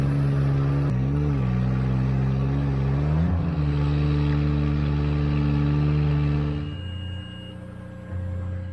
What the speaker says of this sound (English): Trucks are on the road. It's a busy road out there.